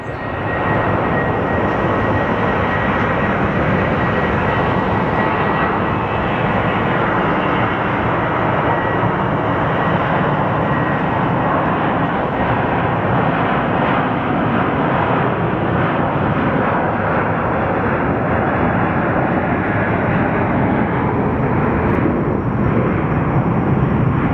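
A Southwest airliner bound for Albuquerque powers up its jet engines for takeoff at Phoenix Sky Harbor Airport, a loud, steady, broadband roar heard from a distance that holds constant throughout, with no talking.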